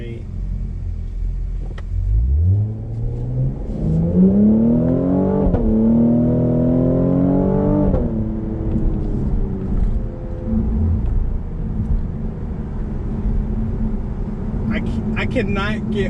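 A Cadillac CT5-V sedan's engine revs up hard as the car accelerates, a deep rising roar that climbs in pitch through gear changes, then settles into a steady loud rumble as it cruises.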